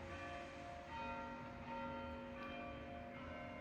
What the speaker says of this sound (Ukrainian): Чуєте? Дзвони. Я живу прямо біля церкви.